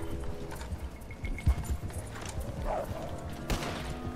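Horses moving in the Red Dead Online video game, a soft, steady clip-clop of hooves close by at low volume, with faint game ambience around them.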